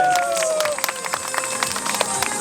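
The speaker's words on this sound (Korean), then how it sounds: "여러분 박수 한번 보내주십시오" Scattered, light handclaps from an audience at an outdoor open training day. Sparse claps patter for a couple of seconds after a brief voice at the start.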